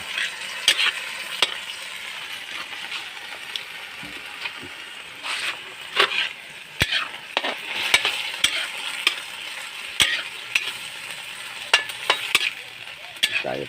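Vegetables for pinakbet, Mindoro-style, stirred in a pan while frying, with repeated sharp scraping clicks of a utensil over a steady sizzle, fairly close and moderate in level.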